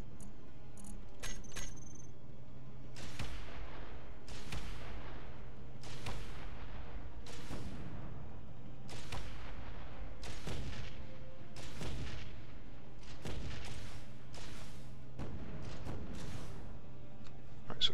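Rockets blasting through a wall in the space-building game Space Engineers, about ten sharp explosive impacts spaced roughly every one and a half seconds over a steady low background hum.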